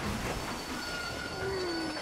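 A steam train in the video game Red Dead Redemption rolls along with a loud, continuous rumble, its wheels letting out long, thin metallic squeals that slide in pitch over the steady roar.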